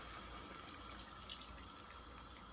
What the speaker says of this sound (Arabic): دابا غادي نضيف ليها الماء نص ديال الطنجره